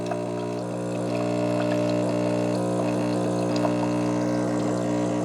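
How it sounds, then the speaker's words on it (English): A Mr Coffee Cafe Barista ECMP1000 espresso machine pumps a single shot of hot water through its group head, giving a steady, close motorized hum with faint flowing water, with no talking. "Just do a single shot, just press it once. And you'll get some water to flow out that head."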